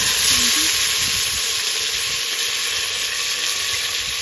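Oxtail and turkey neck frying in a pot for a Jamaican Christmas dinner, a loud, close, continuous sizzle and hiss that holds steady throughout.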